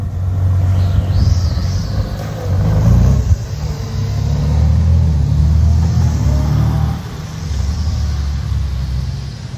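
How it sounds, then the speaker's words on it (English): A 2023 Honda Goldwing motorcycle with a new ECU flash pulls away and rides off, a loud deep engine rumble rising and falling with revving that fades slightly toward the end. "it's time for Tom to take his bike out and give it a try with his new ECU Flash"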